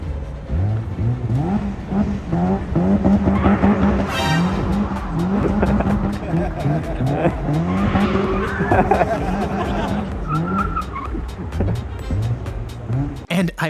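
A car on a budget drift run squeals its tires in long wavering screeches over a revving engine, loud and close, with someone talking over it throughout.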